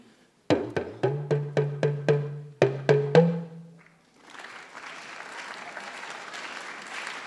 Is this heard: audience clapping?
yes